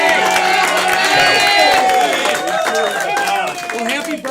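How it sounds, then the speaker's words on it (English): A comedy-show audience claps and cheers for a birthday guest, a loud close crowd of applause with whoops while a host talks over it. "clap for Bobby"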